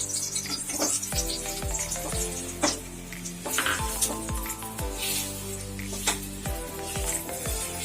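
Dates warmed and mashed in ghee in a pan, a steady low sizzle broken by repeated soft squishing presses and scraping strokes at an irregular rhythm, close and fairly quiet, with music playing underneath.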